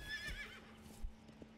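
A horse in the Manor Lords medieval village-building game whinnies in a brief high neigh, followed by a few soft hoof clops, faint and with no voices.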